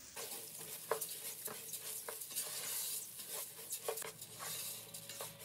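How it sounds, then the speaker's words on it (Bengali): Rice with garlic paste, salt and whole spices being stir-fried in oil for beef biryani, a soft sizzle under irregular scraping strokes of a spoon against the pot, fairly quiet and close. "এখন চালটা কষিয়ে নিব ভালো করে"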